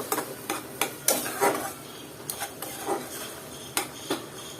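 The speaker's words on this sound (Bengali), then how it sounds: "এটাকে এখন সুন্দর করে নেড়ে চেড়ে দিব মশলার সাথে ভালো মতো কষিয়ে নিব" Spices and mixed vegetables with shrimp are stirred in a pan for a Bangladeshi dish, with a spoon knocking and scraping the metal in irregular clinks over a faint sizzle, close and without talk.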